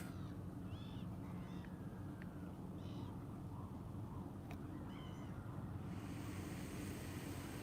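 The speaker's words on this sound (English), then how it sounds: "there's many birds here" Birds call outdoors, a few scattered short chirps and cries against a steady rushing background of wind or ambient noise, faint and somewhat distant.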